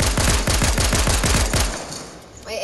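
Rapid burst of assault rifle fire in Fortnite, about a dozen loud evenly spaced shots in quick succession, then stopping abruptly with a faint click and game noise after.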